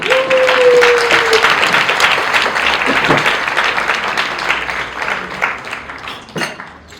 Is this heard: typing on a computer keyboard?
no